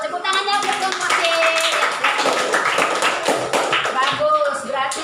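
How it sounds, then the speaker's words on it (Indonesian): A classroom group claps for group C, a dense, continuous patter of hands clapping close by, with children's voices and calls mixed in over the clapping. "Tepuk tangannya buat kelompok C"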